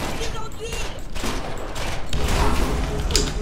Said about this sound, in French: ça va la tourelle qui nous attaque depuis là-bas